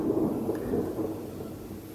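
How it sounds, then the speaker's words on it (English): Low rolling thunder rumbles through a rainy summer shower in the mountains beside a campfire ring, a steady muffled roar lasting about two seconds with no clear crack. "sun shining, thundering, and raining all at the same time"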